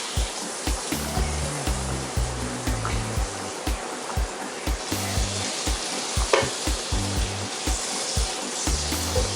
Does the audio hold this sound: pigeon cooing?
no